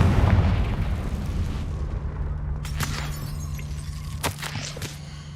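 Confringo, an explosive fire spell cast in Hogwarts Legacy, lets off a loud booming blast that rolls off into a rumbling tail, with a couple of sharp cracking bursts later and no talking.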